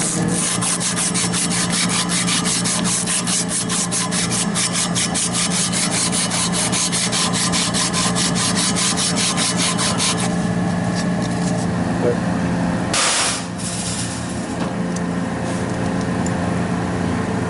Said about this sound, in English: Get some sandpaper over here.